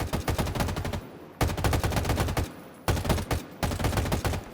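Rapid automatic weapon fire from a video game, played through a Flydigi Apex 4 controller whose trigger motors respond to each shot, comes in loud sustained bursts broken by short pauses.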